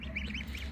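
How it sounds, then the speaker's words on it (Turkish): Turkeys, geese and goslings call together in a steady, overlapping chorus of honks and chirps close by, with a constant low background rumble and no talking. "Hindiler, kazlar, kaz yavruları."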